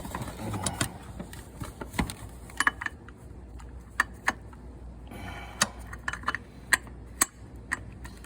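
A stubby wrench ratchets on belt tensioner bolts of a 6.6L Duramax diesel truck during a serpentine belt replacement, giving scattered close metallic clicks and ticks in irregular bursts, with no talking.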